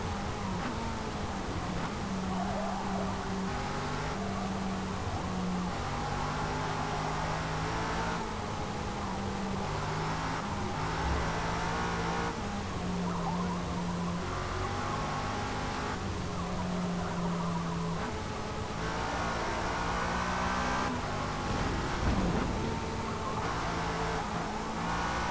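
A 2002 Lotus Esprit V8 races at Le Mans in Forza Motorsport, its engine droning continuously and rising and falling through gear changes, with occasional tire squeal across the long stretch and no talk.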